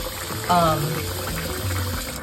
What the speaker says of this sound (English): Got to rinse that citric acid out of here.